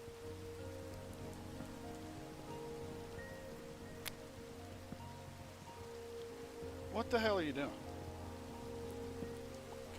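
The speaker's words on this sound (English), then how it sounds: "Hopefully that'll get rid of this rain." Soft, steady rain patters in a game world under faint background hum, and a voice briefly speaks over it midway.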